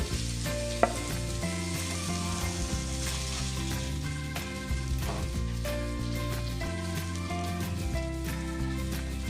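Bangda mackerel and mixed Konkani-style fish fry in a pan, with a steady sizzle and occasional stirring or scraping sounds beneath prominent background music.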